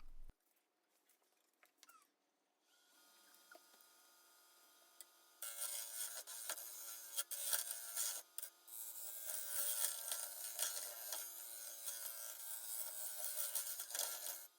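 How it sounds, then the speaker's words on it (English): A square carbide cutter hollows a walnut bowl on a lathe. After a few quiet seconds of faint handling noise, a loud, continuous, rough scraping hiss starts and carries on to the end, surging and dipping unevenly. "This is a square carbide cutter that I'm using right here"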